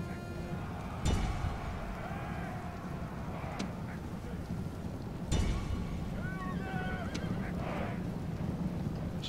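Cavalry horses whinny and neigh several times amid hoofbeats and steady wind-like battle ambience in the Rome: Total War game, the calls moderately distant and spaced apart.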